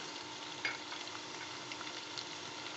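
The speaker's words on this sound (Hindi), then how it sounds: "थोड़ा सा फ्राई करेंगे।" Cumin and garam masala fry in hot oil for beef paya, a soft, steady sizzle with a faint clink or two, close and alone without talk.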